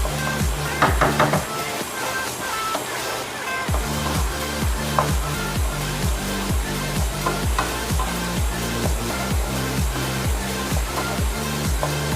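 Ginger garlic paste sautés in hot oil for restaurant-style chole masala, with a close, steady sizzle. Regular rhythmic scraping strokes repeat through the stirring.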